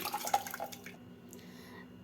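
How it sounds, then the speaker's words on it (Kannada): Soaked little millet rice and its soaking water are poured into a pressure cooker, giving a short, quiet splash and trickle that fades to near silence. "ಈ ನೆಂದಿರೋ ಅಕ್ಕಿನ ನೀರಿನ ಜೊತೆ ಪ್ರೆಷರ್ ಕುಕ್ಕರ್ಗೆ ಟ್ರಾನ್ಸ್ಫರ್ ಮಾಡ್ಕೊಳ್ತಾ ಇದ್ದೀನಿ"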